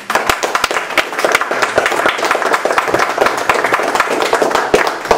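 Audience applause at a mayoral debate between Stacia Petri and Mayor Scott Avedisian: dense, steady clapping from a live crowd, filling the whole stretch at an even loudness with individual claps popping out near the front.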